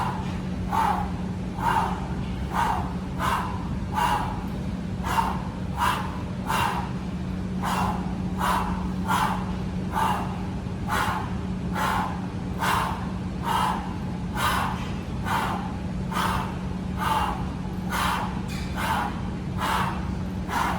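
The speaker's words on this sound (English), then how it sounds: "So you see how I'm continuously breathing, never holding the breath at any time" Rhythmic, evenly spaced breaths, sharp exhales repeating about every second over a steady low hum, from continuous breathing during kettlebell exercises, close and clear with no talk.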